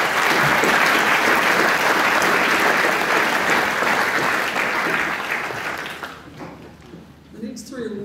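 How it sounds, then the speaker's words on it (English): Sustained applause from a school audience at a senior prize giving, steady and full for about six seconds, then fading out as a voice starts speaking. "Please give them another round of applause."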